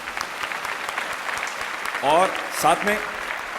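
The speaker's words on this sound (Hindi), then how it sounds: "जोरदार तालियों से हम उनका स्वागत करते हैं।" Loud audience applause welcomes a guest, Shri Sajjan ji, arriving at a Satyug Darshan Trust gathering; steady clapping fills the room throughout while a person speaks over it near the end.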